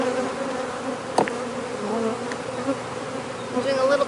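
Honey bees buzz inside an open hive during a queen swap, a dense, steady drone close up with a few louder individual bees flying past.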